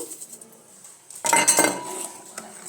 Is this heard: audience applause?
no